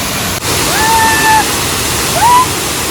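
A waterfall at a hidden spot below an overflowing dam roars as a loud, steady, close wash of water, with a faint whistle-like tone briefly rising over it.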